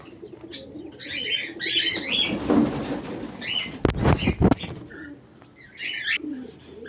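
Caged parrots are handled and caught, giving squawks and chirps with bursts of wing flapping and cage rattling up close, loudest around the middle, with faint talk beneath.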